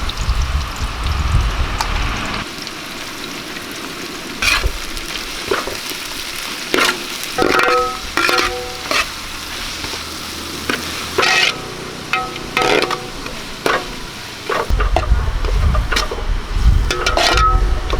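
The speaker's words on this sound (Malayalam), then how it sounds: "നമുക്ക് തലക്കറിക്ക് വേണ്ടി ഉള്ളിയൊക്കെ ഒന്ന് വഴറ്റിയെടുക്കാം" Onions sauté in oil for a Kerala fish head curry, a low sizzle broken by repeated sharp clinks and scrapes of a spoon against the pan, with louder frying bursts at the start and end.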